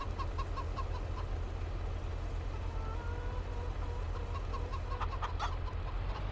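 Chickens cluck in short repeated bursts from a farm in Farming Simulator 22, heard over a steady low engine-like drone, with a louder cluster of clucks near the end.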